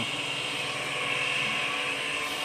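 A steady water pump motor drone hums without pause, a continuous mid-pitched whir with broadband hiss, running nearby.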